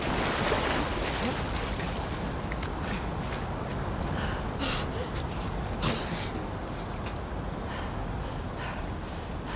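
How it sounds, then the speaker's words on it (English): A fast-flowing torrent of water rushing through the sewers in The Last of Us Part 2: a constant, dense broadband roar that holds steady throughout with only slight swells. "the player was faced with a fast-flowing torrent of water they couldn't cross"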